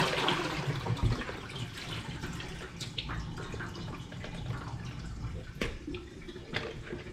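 A mud crab is dunked and moved around in a container of cold water, giving close, soft sloshing and splashing with scattered drips, and one sharper splash near the end.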